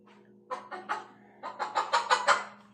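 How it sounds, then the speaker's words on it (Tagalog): A pet chicken, a Texas breed given by a customer, kept at home, gives a run of short clucking calls in two bursts over a steady low hum, close and fairly quiet. "Yan ang aming manok na binigay ng customer ko"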